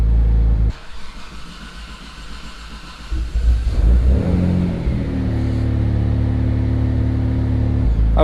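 Mitsubishi 3000GT with a 6G72 engine on an AEM Series 2 map cranks and catches on a warm start, then settles into a loud, steady idle with revving swells, close to the car.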